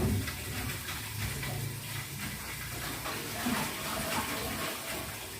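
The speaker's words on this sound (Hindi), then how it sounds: "ये वाले डिब्बे का भी पानी हटाना है क्या?" Water being poured out of a container at home, heard as a continuous, fairly close splashing rush with no clear pauses and no talking.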